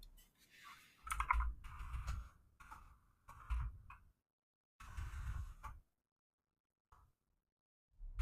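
Bursts of computer keyboard typing, quick clusters of key clicks separated by short pauses, close and fairly quiet, with a couple of isolated taps near the end.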